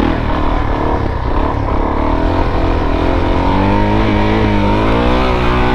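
A motorcycle engine runs loud and close, its pitch rising and falling as the throttle is revved repeatedly, with a slipping clutch.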